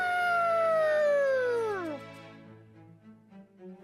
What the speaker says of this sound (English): Wolf howl!